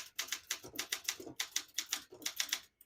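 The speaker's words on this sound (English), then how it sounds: "I'll type a sentence in red on the next line" Rapid clacking of a 1966 Olympia SM9 manual portable typewriter, keys struck in quick uneven bursts with brief pauses, crisp and close.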